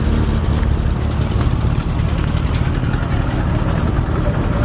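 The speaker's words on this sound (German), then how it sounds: "Also haben wir hier einen 3-Liter Motor verbaut." A steady, rumbling three-litre classic car engine running continuously at an even pitch, loud and close, with no speech over it.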